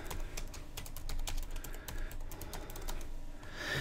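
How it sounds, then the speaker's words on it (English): Steady keystrokes on a computer keyboard while entering text for an email signature in Outlook 2013, a close, even run of clicks lasting several seconds with no talking. "So we'll type in whatever it is we would like."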